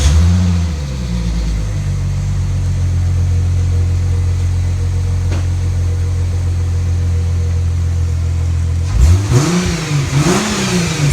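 A Plymouth Prowler's sports car exhaust drones at a steady idle, then two sharp revs rise and fall near the end, loud and close.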